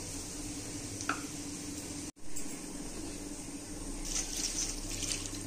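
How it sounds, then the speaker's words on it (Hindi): Poha (flattened rice) being rinsed in water before cooking, with soft sloshing and squishing of wet flakes, a brief splash near the start, and gentle trickling water later, close and quiet with no talk. "खोआ में पानी डालकर साफ करेंगे।"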